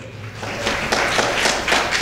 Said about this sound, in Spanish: Puede sentarse y denle un aplauso al Señor, por favor.